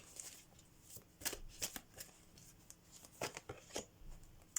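Oracle cards are shuffled close up in quick papery riffles and soft slaps, arriving in uneven bursts against a quiet room.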